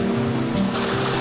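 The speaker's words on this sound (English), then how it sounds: "This is the top of the waterfall, and this is as far as I'm going." A waterfall in an Alaskan rainforest rushes steadily at its top, a constant broad wash of falling water at moderate level with no voices.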